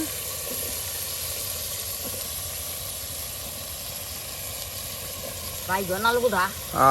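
Spice paste and eggplant sizzle in a pot of dried-fish curry, a steady, even hiss throughout. A voice speaks briefly near the end.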